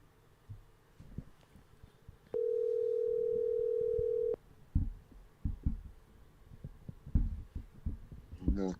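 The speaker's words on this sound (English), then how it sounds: "Let's see if he even answered this phone." An outgoing phone call rings out as a single steady ringback tone lasting about two seconds, heard clearly between stretches of background talk and rustling.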